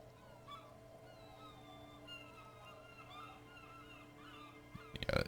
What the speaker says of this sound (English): Nothing but the sound of seagulls high above in the sky echoing like distant laughter